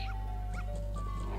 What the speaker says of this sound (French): Casse-toi le chien.